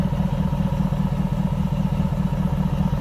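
A stock 2010 Jaguar XK Portfolio Coupe exhaust idles with a low, steady rumble, fairly quiet and even, with a faint rattling texture and no voices.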